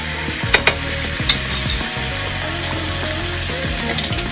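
Minced garlic and mushrooms sizzle steadily in a frying pan for a mushroom cream sauce, a constant close hiss broken by a few light clicks and clinks.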